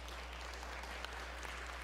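A church congregation gives a hand clap of praise, a steady, fairly faint spread of many clapping hands heard over a low hum.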